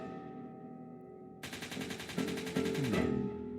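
Bursts of rapid gunfire from a video being played, rattling machine-gun fire that starts abruptly after a quieter stretch with a low tone, then continues steadily and loudly.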